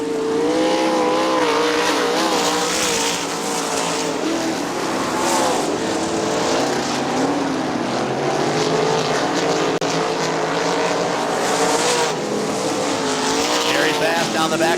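Outlaw sprint race cars roar down the backstretch at Winston Motor Speedway, a loud pack of engines rising and falling in pitch as they pass, with a commentator speaking over them.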